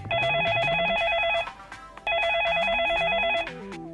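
A telephone rings in two long electronic trilling bursts separated by a short pause, loud and close, with a lower melodic tone stepping underneath each ring.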